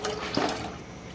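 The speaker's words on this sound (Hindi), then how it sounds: "दाल को हम इस पानी में शामिल कर देंगे।" Soaked, washed mash lentils (daal mash) poured into a pot of water, a short close splash and wet gush that fades into a settling slosh, with no talk.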